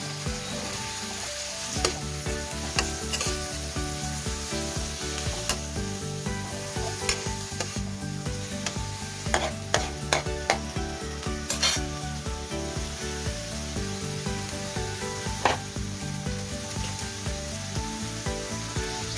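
Dried fish (bulad) sizzles and crackles steadily in a pan, loud and close, with frequent scraping and clinking as it is stirred, and no talking over it.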